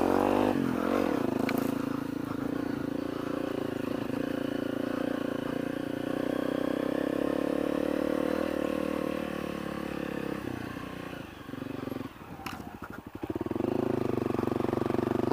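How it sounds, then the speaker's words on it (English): A dirt motorcycle labors through deep sand, its engine droning steadily at moderate revs for about ten seconds before throttle blips and sputters, with brief rattling and clatter toward the end. "My tire just sinks down into the sand when I take off."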